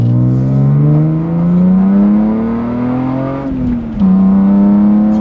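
Mostly stock BMW E36 M3 with a tune, headers and exhaust, accelerating hard from inside the cabin; loud engine tone climbs steadily through a gear, drops briefly at a shift, then pulls again.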